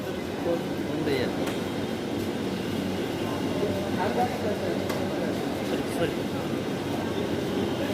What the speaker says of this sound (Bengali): দেখেন কত সুন্দরভাবে এই মেট্রো রেলটা তৈরি করা হয়েছে